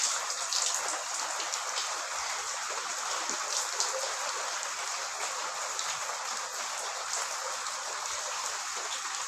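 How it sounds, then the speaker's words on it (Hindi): Heavy daytime rain pours down outside an open house, a steady, dense hiss of drops striking surfaces that continues evenly throughout without any talk. "देखो कितनी तेज पानी बरस रहा है आज सारे दिन"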